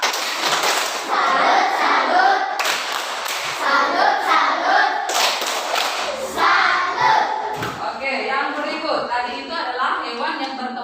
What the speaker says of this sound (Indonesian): kita beri tepuk salut untuk Yora. 1, 2, 3